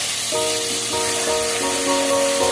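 Garlic and ginger paste frying in a pan for restaurant-style palak paneer, giving a steady, fairly loud hiss throughout with sustained tonal music playing over it.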